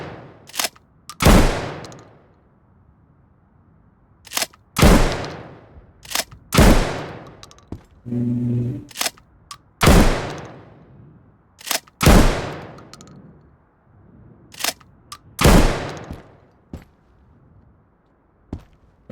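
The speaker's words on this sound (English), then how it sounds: "Okay, so there we go, shotgun action." Shotgun fire in the video game Road to Vostok: about a dozen loud, sharp blasts in an irregular rhythm, each with a short decaying tail, plus a brief mechanical rattle of the weapon being cycled between shots.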